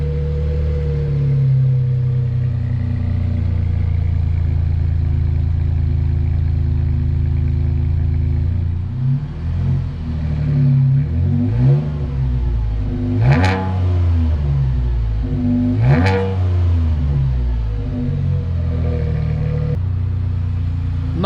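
A Chevrolet Colorado V6 engine idles with a steady low rumble, then revs up in several rising and falling sweeps, with two sharp higher-pitched peaks later, close and loud throughout.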